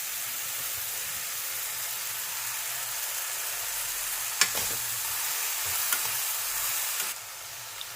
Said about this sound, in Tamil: இதில் இப்போ அந்த நறுக்கி வச்சிருக்கிற பீர்க்கங்காயை போடலாம்.